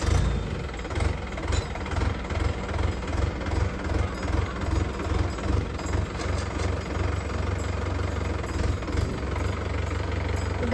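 A tractor engine runs steadily nearby, its low diesel chug pulsing in a regular rhythm throughout, loud and alone without talk.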